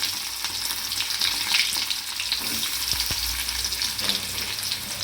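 Shallots and mustard seeds sizzle and crackle steadily in oil in a pan, with occasional pops and a light stirring scrape, no voices.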